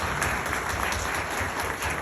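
Audience applause at a housing society gathering in Islamabad, a steady wash of clapping from many hands that fills the whole moment without pause.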